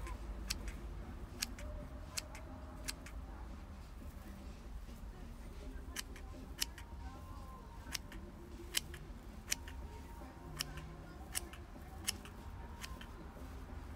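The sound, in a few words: small snippers cutting succulent pumpkin craft material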